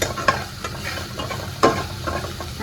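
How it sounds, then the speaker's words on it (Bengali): Chillies and garlic frying lightly in hot oil in a home kitchen, with a close, steady sizzle broken by a few sharp louder crackles as they are stirred. "তেল নিয়ে দিয়ে দিচ্ছি লঙ্কা আর রসুনটা, একটুখানি হালকা ভেজে তারপর ওই শাকটা দিয়ে দেবো"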